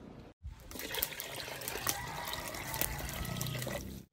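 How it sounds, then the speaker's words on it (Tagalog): Water pours steadily into a pot of pares beef broth, a continuous close splashing and trickling rush that lasts for about four seconds after a brief gap near the start. "Dadagdagan ko pa ng konting tubig."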